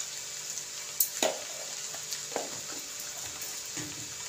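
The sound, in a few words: stir-frying egg chicken chow mein with vegetables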